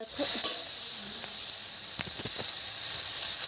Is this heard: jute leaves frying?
yes